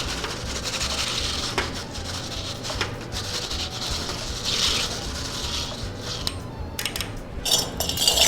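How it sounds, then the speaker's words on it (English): A swizzle stick churns crushed ice in a hurricane glass while a cocktail is mixed at a Pittsburgh tiki bar, giving a close, steady scraping and rattling with scattered sharper clinks. "A little swizzle action."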